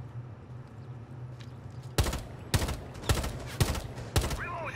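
Gunfire in the Rainbow Six Siege video game: five sharp, loud shots at roughly half-second intervals over a low steady background hum, with no talk.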